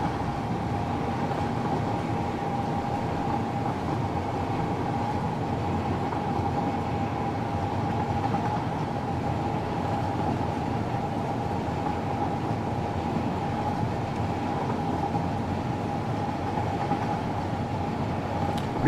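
A train rolls along a railway in a factory-building game, a steady, unbroken rumble with a faint mechanical hum that holds at even loudness throughout, with no talk.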